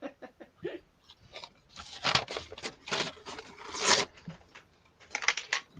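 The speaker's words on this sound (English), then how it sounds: "I like the sound of torn paper." Paper tearing in a series of short rips and crinkles while craft pieces are being made, close and fairly quiet, with bursts of several quick tears and no talking.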